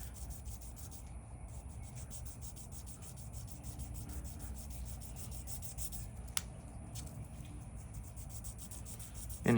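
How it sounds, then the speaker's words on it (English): A stainless steel gun rail is worked with fine-grit sandpaper: steady, continuous close rubbing with a faint rhythmic scrape, quiet and unbroken for several seconds. "especially these being stainless steel and a higher grit sandpaper, it'll take you some time to do it just right."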